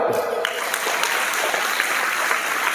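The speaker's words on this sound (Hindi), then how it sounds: "ताली बजाओ।" Students clap together in a school assembly during a moral-education talk, a steady dense wash of applause that fills the short moment, with faint voices mixed in.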